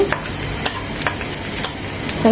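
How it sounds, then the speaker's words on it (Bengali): Two dried chilies fry in a little oil, giving a steady close sizzle broken by a few sharp scrapes and taps of a stirring spoon against the pan. "দিয়ে দিচ্ছি দুটো শুকনো মরিচ সামান্য একটু তেলে দিয়েছি"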